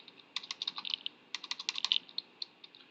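Keys on a computer keyboard are typed in quick bursts of clicks, two clusters of rapid strokes separated by brief pauses, close and clear with no talking.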